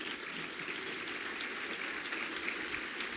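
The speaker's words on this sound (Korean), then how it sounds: "박수." Steady applause from an audience at a Korean religious sermon, a dense continuous patter of many hands held at an even level throughout.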